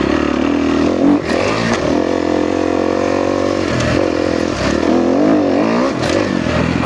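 A 2013 Kawasaki KX250F dirt bike engine drones loud and close while riding, rising and falling with throttle changes, with occasional clanks and rattles.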